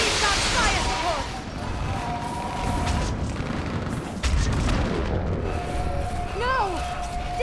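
Fire support explosions in Mass Effect 3 boom and thud across a loud battlefield, low blasts recurring irregularly under ongoing combat noise, with bright whistling and sweeping tones layered on top.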